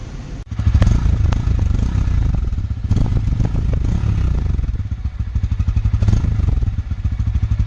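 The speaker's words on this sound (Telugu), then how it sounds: "ఇప్పుడు N160లో ఎగ్జాస్ట్ సౌండ్ అయితే విందాం." A Bajaj Pulsar N160 motorcycle exhaust barks close and loud, rising through a series of throttle blips over a rough, chattering idle.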